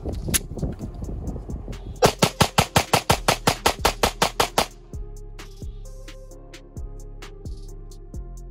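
Walther PPQ pistol firing NOVX lead-free 9mm rounds: a rapid string of about a dozen sharp, loud shots in quick rhythm, followed by a few slower, more spaced reports.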